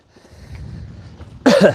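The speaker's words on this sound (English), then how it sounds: "Coughing everywhere." Two or three close, loud coughs from an electric mountain bike rider burst out near the end after a stretch of low background rumble.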